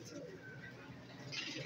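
A Ferozpuri pigeon in a Rawalpindi pigeon shop gives low throaty coos close by, with faint voices and shop noise underneath and a brighter rustle near the end.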